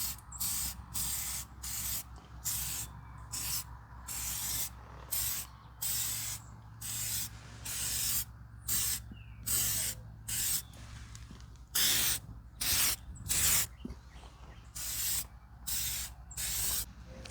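Aerosol can of Meguiar's headlight coating spraying in repeated short hissing bursts, each lasting about half a second to a second with brief pauses between, over a low background hum.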